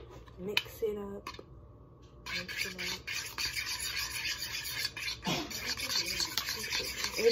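Eggs being stirred in a bowl for microwave cooking, with soft scraping and swishing strokes of a utensil against the bowl, quiet and close, over faint room noise.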